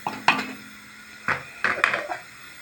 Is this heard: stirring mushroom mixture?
yes